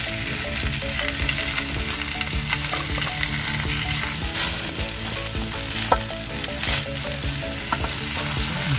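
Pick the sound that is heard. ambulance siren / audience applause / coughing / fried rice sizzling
fried rice sizzling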